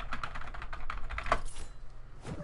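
Rapid clattering of a PC keyboard and mouse during a competitive online 1v1 game, a dense burst of close, loud key taps with a short pause.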